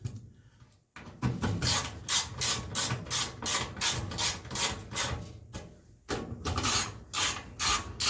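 Small screws being tightened by hand with a ratcheting tool, a close, rhythmic series of rapid clicking strokes with a brief pause partway through.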